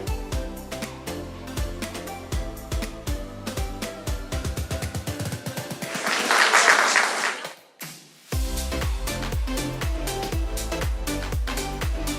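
Audience applause at an International Women Entrepreneurs' Day event in India, a dense, steady patter of many hands clapping, swelling briefly into a louder burst before a short gap, then resuming over background music.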